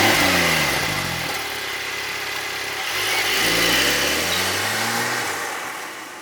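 A Porsche 911 Turbo S (992) accelerates hard on a race track, its engine note rising through the gears with a shift and renewed climb, loud and steady under heavy wind and road noise.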